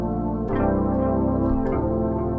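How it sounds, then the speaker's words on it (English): Dreamy Touch, a synth preset by Evolving Keys in Analog Lab 5: sustained, lush chords with a chorus-like shimmer and soft echo, changing chord about every second. "the next sound I'm going to use is called Dreamy Touch by Evolving Keys"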